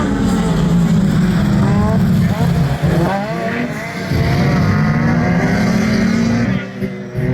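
Autocross race cars in the class 3 field at Hesborn, Germany, rev hard and accelerate from the start, loud rising engine tones close by with a commentator talking over them.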